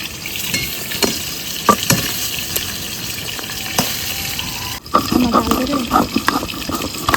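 Potatoes fry in a pan during rural outdoor cooking, a steady close sizzle with scattered clicks that turns louder and busier near the end, with stirring and water-like splashes mixed in.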